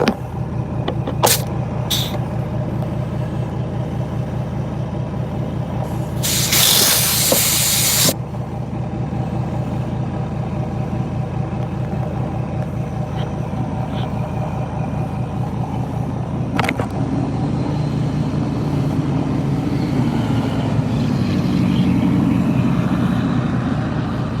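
An air pump inflates truck airbags with a steady, loud rhythmic chugging, interrupted by a few short bursts of hissing air and one long hiss partway through.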